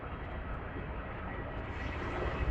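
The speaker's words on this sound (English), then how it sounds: "you must be hearing the voice of the aeroplane" A propeller aeroplane passes overhead outdoors as a steady, broad engine drone that grows slightly louder toward the end, heard alone without talk.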